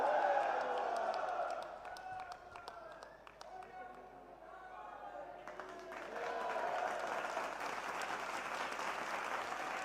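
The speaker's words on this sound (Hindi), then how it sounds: "एक बार जोरदार तालियां बजा करके जय" A large crowd at a chief minister's foundation-stone and inauguration gathering for Abu Raj in Sirohi, Rajasthan, claps steadily. The applause dips midway and then swells louder again, with voices mixed in.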